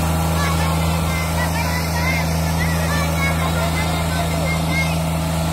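A Sonalika DI 22 tractor engine labours in a steady, loud drone while the machine is stuck in soil piled against its wheel; people talk over the engine noise.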